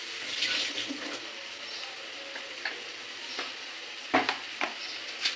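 Chilli baby corn is sautéed in a pan, with an even low sizzle and a few soft scrapes and taps from stirring, growing slightly sharper near the end.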